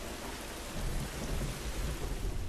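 Thunderstorm in The Last of Us video game: a low rolling thunder rumble swells after the first second over steady, dense rain hiss that fills the whole moment, with no voices.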